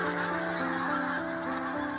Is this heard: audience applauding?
no